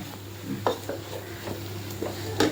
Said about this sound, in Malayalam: ആ പച്ചപ്പ് ഒന്ന് മാറുന്ന വരെ ഇളക്കിയെടുക്കണേ